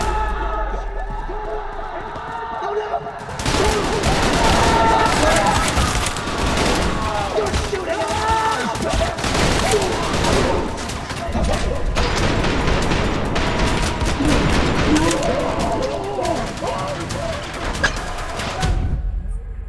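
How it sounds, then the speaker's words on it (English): Shotgun fire in the first-person shooter Trepang2: dense bursts of loud blasts and booms run almost continuously after a quiet start, with game voices mixed in. "That was a shotgun blast to the face."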